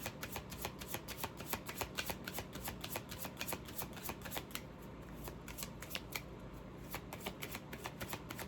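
A deck of oracle cards is shuffled close up, giving a rapid, even run of soft riffling snaps that pauses briefly midway and then resumes, with no talking.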